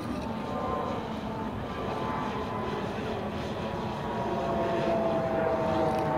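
A 3DR Solo drone approaches with a steady, droning propeller buzz that grows slightly louder toward the end, under continuous outdoor background noise.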